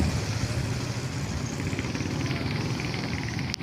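Motorcycle engines rumble and idle at a paid parking area in Bohol, a steady mid-distance drone of running motors with no talk.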